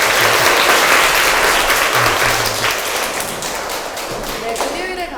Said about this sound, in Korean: 이병헌 교수님께 다시 한번 큰 박수 부탁드립니다